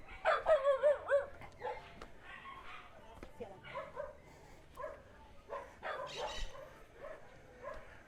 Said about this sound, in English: Like 6 dogs hanging out all of a sudden.